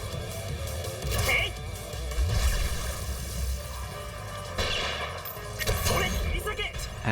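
Rapid gunfire in the video game Baldr Sky, dense bursts of shots over a constant mechanical game background, loud and continuous with a few heavier surges.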